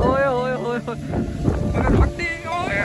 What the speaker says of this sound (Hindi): मट्टी का तूफान आ गया।